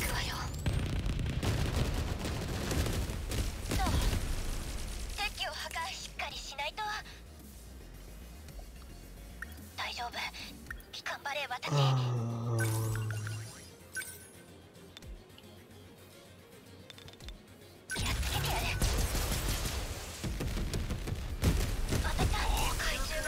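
Missile attacks fired in the video game 13 Sentinels: Aegis Rim, a dense volley of bursts and clinking impacts with a booming low swell midway, loud and continuous under game music.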